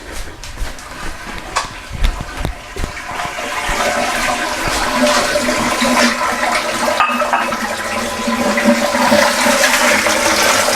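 A Newmar New Aire RV's Sanicon pump drains waste through a hose into a household toilet, with a rushing, gushing water flow that starts after some clatter and holds loud and continuous.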